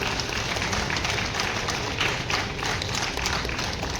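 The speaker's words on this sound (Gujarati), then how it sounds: "ફરી એકવાર જોરદાર તાળીઓ તેમના માટે." Loud, dense audience applause at the Saptrang Creators Fest award ceremony, a full crowd clapping continuously and close by for several seconds with no letup.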